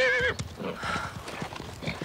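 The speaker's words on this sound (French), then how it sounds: "Oui, t'es un bon cheval." A horse gives a short whinny, then its hooves clop in a steady, fairly close rhythm over soft ground, at a modest level.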